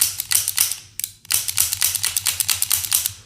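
A Colt King Cobra revolver's double-action trigger is pulled fast and repeatedly, giving close, crisp mechanical clicks in a quick, slightly uneven rhythm with a brief pause early on.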